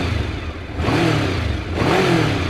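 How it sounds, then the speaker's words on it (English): A 1989 Honda VFR750F motorcycle engine revs twice up close, each throttle blip rising and falling in pitch over a steady mechanical idle, with no voices. "Listen to that engine."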